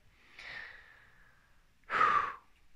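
Deep breath taken close to the microphone: a drawn-out inhale followed, after a pause, by a louder, shorter sighing exhale.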